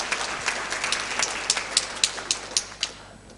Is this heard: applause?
yes